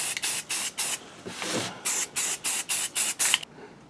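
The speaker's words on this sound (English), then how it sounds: "mist it with a little bit of black. Camouflage Rust-Oleum is lot number 279175 Deep Forest Green." Rust-Oleum Camouflage spray paint in Deep Forest Green hisses onto a prop helmet shell in about nine short, evenly spaced bursts, one after another, with a brief quiet gap near the middle and silence at the end.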